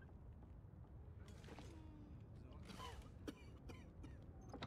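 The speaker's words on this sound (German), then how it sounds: "Hier husten aber mehrere Leute." Several people cough and clear their throats in a video game, a few short raspy bursts spread across the moment over faint background noise.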